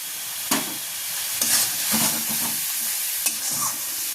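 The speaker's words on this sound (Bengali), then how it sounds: "সেই পেঁয়াজের রসটা দিয়ে কিন্তু আমি এবার মশলাটাকে কষাবো" Spices fry in a pan with reserved onion juice for a duck egg curry, making a loud, close sizzle broken by several sharp stirring scrapes of a spoon against the pan, with no voices.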